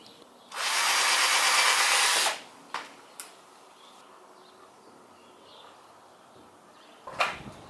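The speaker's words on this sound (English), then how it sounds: "Just got a drill to make the second leg now." A power drill bores into wood for a water pump stand leg in one loud, steady burst of about two seconds, followed by a few faint knocks and clicks and then a short final whir.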